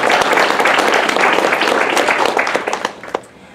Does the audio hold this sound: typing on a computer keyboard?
no